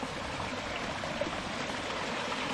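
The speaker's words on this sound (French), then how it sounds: "Un bon petit ruisseau d'eau vive, bien pure et bien fraîche" Small, pure, fast-flowing stream in a forest, a steady close rush and trickle of water running alone without pause.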